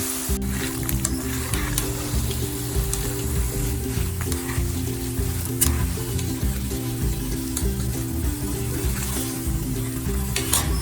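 Namak paray frying in oil until light golden brown, a dense continuous crackling sizzle with occasional stirring, close and steady over low background hum, no voices.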